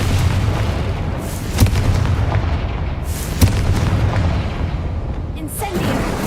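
Confringo fire spell cast in the Hogwarts Legacy video game, heard as two sharp blasts over a steady roar of game ambience and rumble, with a softer burst near the end.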